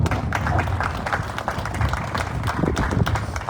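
An indoor audience at a legislative announcement gives a round of applause, a dense, steady patter of many hands clapping close by for several seconds without pause.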